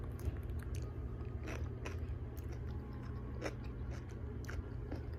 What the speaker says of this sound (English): Eating cut up cucumber with ranch.